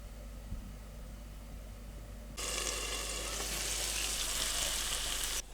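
Onions hit a hot pan with salt, rosemary and a splash of water, and a sudden loud hissing sizzle bursts in after a quiet moment, holding steady for about three seconds before cutting back down.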